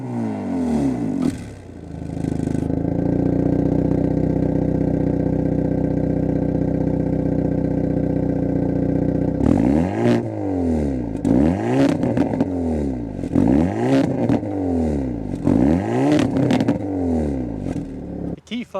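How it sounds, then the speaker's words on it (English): A 2025 Hyundai Elantra N engine starts and settles into a loud steady idle, then is revved repeatedly in rhythmic blips, each rising and falling sharply, with a throaty exhaust note close by. "start it up, so you can hear that exhaust note."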